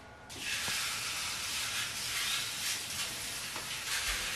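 Tuna steaks hit a hot oiled pan and set off a loud, steady, close sizzle that starts abruptly and keeps hissing with no talk over it.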